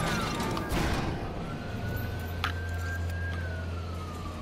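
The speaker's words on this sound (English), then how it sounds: "Well, damn, their siren's going off." A video game siren in Dead Space wails, sweeping in a thin steady tone over a low engine hum, at moderate distance with a sharp click midway.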